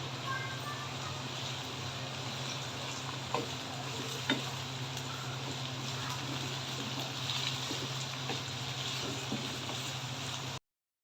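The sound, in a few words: garlic ginger paste frying in a pan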